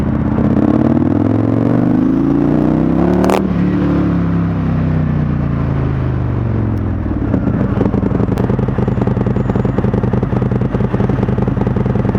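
An Indian FTR1200 motorcycle ridden in sport mode, its engine loud and close, rising in a long rev before easing off and settling into a steady, throbbing run.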